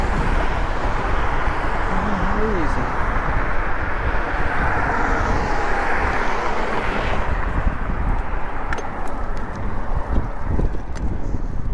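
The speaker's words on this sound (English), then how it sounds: "I know these cars are loud." Loud cars idle and rev at a stoplight, a steady broadband engine roar mixed with wind buffeting the microphone, with a brief spoken word.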